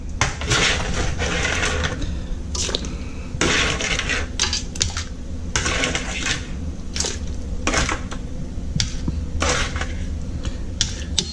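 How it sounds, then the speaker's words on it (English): Cleaned blue crab goes into a cooking pot for tom yum seafood, with repeated clattering metal and shell knocks against the pot over a steady background hum, no voices. "We'll put the blue crab that we cleaned in there."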